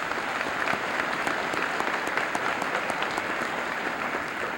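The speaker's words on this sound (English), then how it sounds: "Let's give a round of applause to all these scholarship winners" A steady round of applause from an audience at a 1993 high school senior assembly, honoring scholarship winners; many hands clap evenly at moderate volume with no voices rising above.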